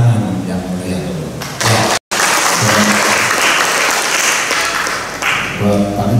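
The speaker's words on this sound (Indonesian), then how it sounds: "saya ingin kita tepuk tangan yang mulia dulu" Applause from the audience at the closing ceremony of an early-childhood teachers' workshop in Indonesia. The clapping is dense and sustained and fills most of the clip. A voice speaks at the start and end, and there is a brief dropout near the middle.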